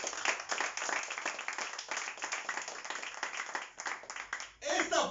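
A church congregation applauds in a steady, fairly faint patter of many hands for about five seconds, with voices mixed in.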